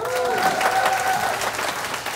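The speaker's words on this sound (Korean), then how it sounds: "박수 많이 쳐주세요" An audience applauds warmly at a university student band performance featuring saxophones and drums. Close, full clapping crowds the whole moment, with a faint lingering tone from the stage underneath.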